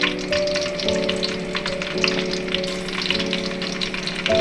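Split green chillies and cumin seeds frying in hot oil make a continuous crackling sizzle with small pops, close and alone under a faint steady hum.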